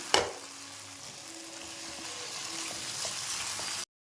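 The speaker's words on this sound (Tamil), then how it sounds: "இப்போ நம்ம உருளைக்கிழங்கு ஆட் பண்ணிக்கலாம்" Potatoes hit hot oil with already sautéed tomatoes for a green peas and potato kurma, a sharp initial crackle settling into a steady, close sizzle that holds evenly until it cuts off.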